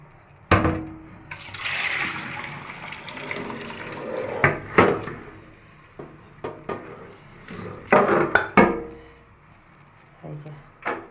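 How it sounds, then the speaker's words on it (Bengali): Raw chicken being rinsed clean under hot running water in a home kitchen, a steady splashing flow with bursts of handling and clatter, and a voice talking intermittently over it. "এই যে এটা গরম জল দিয়ে পরিষ্কার করে ধুয়ে নিলাম।"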